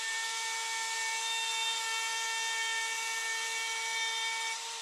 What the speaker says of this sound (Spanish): ajusté la fresa para cortar 6 milímetros en la superficie y lo haré en varias pasadas.